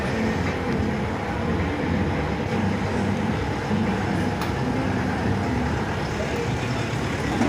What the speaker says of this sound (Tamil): இந்த வாகனம் ஸ்லோவாக தான் நகருது.